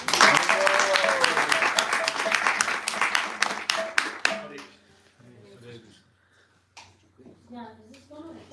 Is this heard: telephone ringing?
no